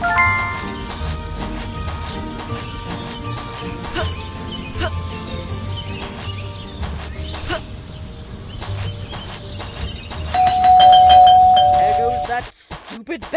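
A doorbell rings near the end, in Scary Teacher 3D, as a short bright chime following a stretch of busy game sounds and background music.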